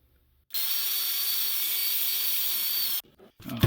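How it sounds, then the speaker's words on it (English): A small drill bores out holes in 3D-printed parts of a 1965 Studebaker prototype pickup truck model kit. The close, steady, high-pitched whine runs for about two and a half seconds, then cuts off abruptly. "So these have to be drilled out as well."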